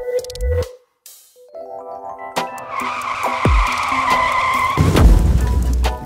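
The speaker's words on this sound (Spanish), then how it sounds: "La camioneta gris iba justo a arrollarlos, si no es embestida por el auto negro" A grey pickup truck and a black car collide amid loud tyre skidding and squealing, followed by a heavy crunching impact and rumbling debris near the end.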